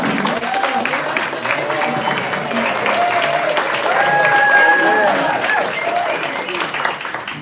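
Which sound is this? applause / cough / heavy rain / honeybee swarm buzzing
applause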